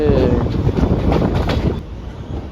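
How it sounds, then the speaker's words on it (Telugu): A passenger train between Tiruppur and Coimbatore rumbles along at speed, with a dense low roar and rhythmic rattling of the cars, heard close from on board. "తిరుపూర్ నుంచి బయలుదేరేసిన ట్రైన్ అయితే"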